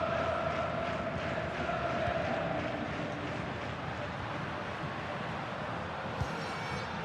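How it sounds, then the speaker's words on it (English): Stadium crowd roar from the FC26 football video game during a late Atletico Madrid attack against Real Madrid, a loud, steady wash of noise throughout with no let-up. "The crowd certainly think so. Just listen to that noise."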